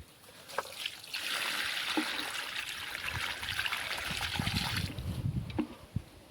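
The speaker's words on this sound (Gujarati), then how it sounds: "હવે આપણે આ જામફળી છે એની અંદર નાખી દઈએ છીએ." Water is poured from a can onto the base of a guava tree outdoors, giving a steady splashing trickle for several seconds, with a few soft knocks before and after.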